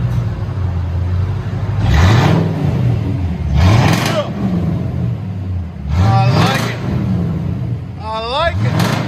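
Straight-piped V8 Chevy Caprice revving hard in several loud surges, each climbing and falling off with a deep exhaust roar and some crackle, with a voice in between.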